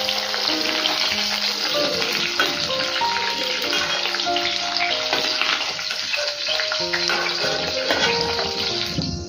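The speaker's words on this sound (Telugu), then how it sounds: "బెండకాయలు ఫ్రై అయిపోయినాయండి, మరి ఎక్కువ ఫ్రై అవ్వాల్సిన పని లేదు." Ladyfinger okra frying in hot oil, a loud, dense, continuous sizzle and crackle heard close up, with no talking.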